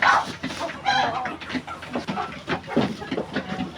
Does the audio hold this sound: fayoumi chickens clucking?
yes